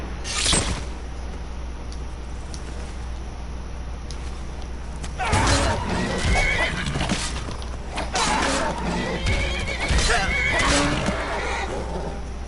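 A horse neighs briefly early on in the video game Skyrim, followed by rustling, clattering mechanical sounds and a muffled voice in the background.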